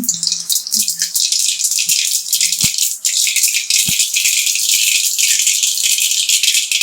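Mustard seeds spluttering in hot oil for a fish curry: a dense, steady high sizzle and crackle, broken by a few sharper pops scattered through.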